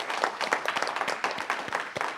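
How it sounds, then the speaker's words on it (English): Steady applause from a council meeting audience honoring a long-serving employee, a dense patter of many hands clapping together at a moderate distance, continuous for a couple of seconds with no voices on top. "Everybody, let's give him a round of applause."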